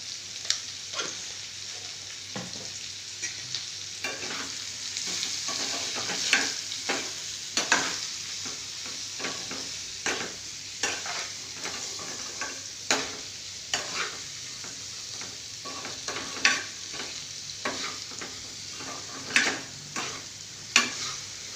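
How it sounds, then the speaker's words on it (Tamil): Spices, chili powder, turmeric and salt stirred and fried in hot oil in a pan while cooking lunch, a steady sizzle broken by repeated scraping strokes of the stirring spoon, close and continuous with no talking. "இந்த எண்ணெயில் கொஞ்சம் நல்லா வதங்கட்டும்."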